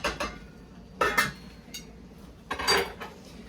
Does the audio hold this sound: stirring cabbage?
yes